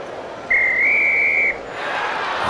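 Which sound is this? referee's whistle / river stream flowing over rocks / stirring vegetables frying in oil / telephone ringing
referee's whistle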